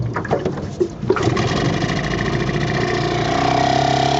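A 1940 Bendix Eclipse TMD 4.5 horsepower outboard motor restarting, a few uneven sputters before it catches and settles into a steady, close running drone that builds slightly.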